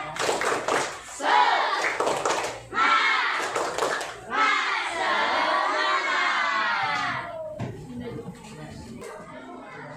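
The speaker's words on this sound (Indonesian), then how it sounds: "Tepuk semangat." A class of children performs the "tepuk semangat" clapping chant, shouting rhythmic words together between sharp group claps, loud and close, ending in a few final claps.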